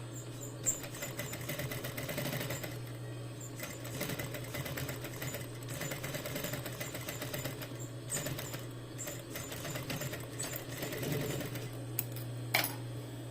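Sewing machine stitching a seam, backtacking at each end: a steady mechanical whirring hum with a fast repetitive needle rattle, close and moderately quiet, pausing briefly once.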